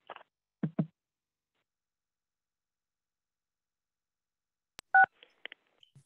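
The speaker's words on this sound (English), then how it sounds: "just press *6 to unmute your phone" Touch-tone keypad beeps on a phone dialed into a church conference call: a short paired tone burst near the end, surrounded by scattered clicks and quiet gaps, close and clear.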